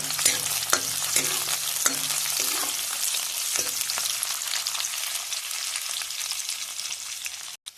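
Chopped onions with two bay leaves sizzle steadily in hot oil in a pan, a continuous bright crackle broken by a few spoon scrapes early on, close and fairly loud.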